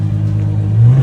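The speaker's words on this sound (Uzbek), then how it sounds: "yirtqich motorning na'rasini xuddi opera musiqasidek toza jarangdor va simfonik darajada taratib" A 780 hp naturally aspirated V12 revs through its exhaust, a loud, close, droning engine tone that climbs in pitch near the end, with no talk over it.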